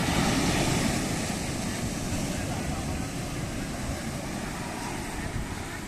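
Ocean surf at Puerto de Santiago, Tenerife, a dense, continuous roar of breaking waves with rumbling low wash and wind, loud and close throughout.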